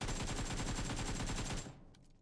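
Rapid, sustained automatic gunfire in PUBG Mobile, loud and dense for about a second and a half before cutting off into quieter sounds.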